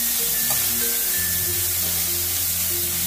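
Chopped onion frying in oil on a lowered gas flame, a continuous loud sizzling hiss with a low hum beneath, steady throughout and without speech.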